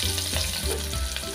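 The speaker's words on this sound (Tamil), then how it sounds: "இதில் 1 பெரிய வெங்காயம் கட் பண்ணி போட்டுக்கலாம்." One large chopped onion frying in hot oil and ghee with cinnamon, star anise and clove, a dense continuous sizzle close by with soft rhythmic stirring, no voices.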